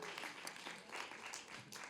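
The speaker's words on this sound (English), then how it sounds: "Yes, let's give it up for our returners." An audience at a StorySLAM storytelling event applauds its returning attendees, a steady wash of clapping heard from a distance, fairly faint and continuous.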